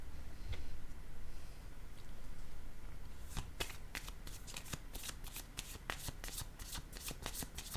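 A deck of playing cards is shuffled close by, with dense riffling bursts and sharp flutters building in the second half over a soft low rumble; no one speaks.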